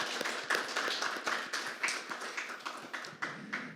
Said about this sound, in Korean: 오늘 발표 및 토론에 참여해 주신 모든 분들께 다시 한번 큰 박수 부탁드립니다.